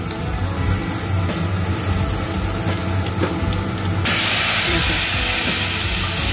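Whole cumin, dried red chillies and bay leaves fry in hot oil as a tempering, giving a steady loud sizzling hiss that turns brighter and harsher partway through.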